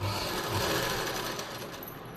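A sewing machine runs a continuous loud, even whir while stitching a blouse lining, alone without any talk.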